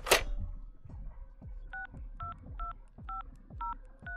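A hotel room phone being dialed, its keypad sending a steady series of paired dual-tone beeps at an even rhythm, each press also giving a low thump, close and clear with no talking.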